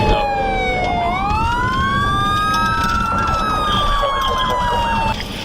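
A police car siren wails loud and close, sweeping up and down in long glides over rumbling road noise during a high-speed chase, with a voice faintly underneath.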